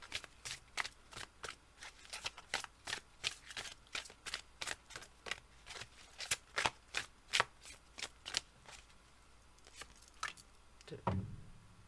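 A deck of oracle cards is shuffled by hand in a quiet room, a rapid run of about two dozen crisp riffling snaps in steady rhythm, ending with a soft thump.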